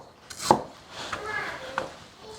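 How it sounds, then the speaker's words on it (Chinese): A kitchen knife slices through lotus root on a cutting board, giving a few distinct close-up knocks spaced irregularly, with quiet room noise between the cuts. "首先莲藕切片"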